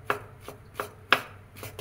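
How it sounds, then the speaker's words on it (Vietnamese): A knife chops soaked oyster mushrooms on a board, four crisp, evenly spaced cuts about a third of a second apart, close and clear with no talk. "băm ra cho nhỏ"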